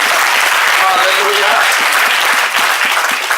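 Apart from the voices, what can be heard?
congregation clapping hands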